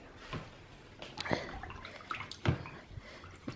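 A paintbrush swished and rinsed in a container of water, making a few irregular splashy sloshes and drips, close and moderately quiet.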